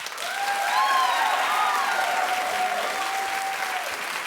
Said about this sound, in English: Clap if you think it's wrong because she's a mother.